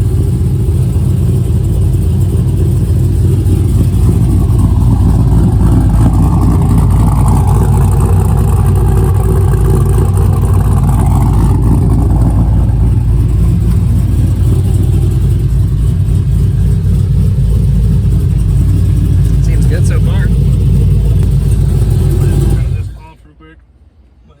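LQ4 V8 engine running in a Firebird Trans Am after an engine swap, a loud steady rumble with some revving that holds throughout before cutting off abruptly near the end, with talking over it.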